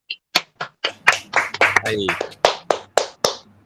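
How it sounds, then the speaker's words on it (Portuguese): A classroom audience in an MBA business-management class gives a short burst of hand clapping, sharp irregular claps close by, with a brief spoken word mixed in. "uma salva de palmas"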